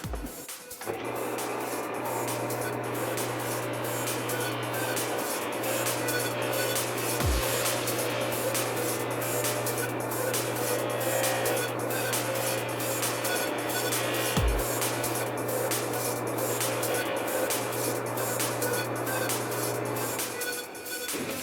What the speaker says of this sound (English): the wheel does a really good job of bringing a nice high polish to the surface